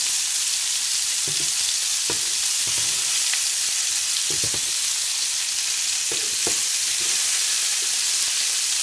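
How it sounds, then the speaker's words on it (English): Homemade beef meatballs fry in a hot pan with a constant loud hiss of sizzling fat, broken by occasional clinks and scrapes as they are stirred and turned, with no voices. "if you can hear me over the sizzling, but they're cooking lovely"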